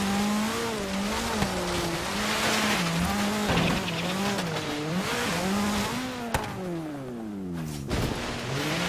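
Car driven in the video game Forza Horizon 3 on a snowy mountain course: a close, loud engine whine rising and falling through gear shifts and revs, with a few brief tire skids and bumps, and no voices.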